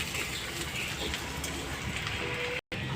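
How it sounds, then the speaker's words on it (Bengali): Grated coconut frying lightly in a pan with five-spice tempering, a steady close sizzle and crackle throughout with a brief dropout near the end. "এবার দিয়ে দেবো অল্প একটু নারকেল কোড়া, হালকা করে ভেজে নেব।"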